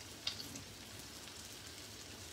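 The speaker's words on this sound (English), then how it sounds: "Amanda, is the sizzle sound almost as soothing as Guitar Dave playing in the background?" Hamburger steaks frying in a pan on a home stovetop give a faint, steady sizzle like light rain, with one brief click near the start and no talk.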